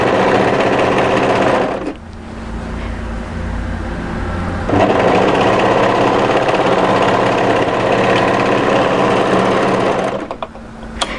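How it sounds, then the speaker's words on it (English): An overlocker sewing machine trimming and serging a fabric edge on a raglan hoodie, a loud, fast continuous whirring drone that briefly eases off near the start and again near the end. "Now let that overlocking blade trim off those previous overlocking threads."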